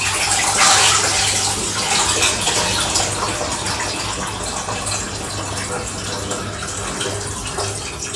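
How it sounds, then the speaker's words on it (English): Water pouring and splashing steadily from a pot of soaked cannellini beans as it is drained, a loud continuous gush that eases slightly over several seconds with no talk. "So I'm just going to drain that off."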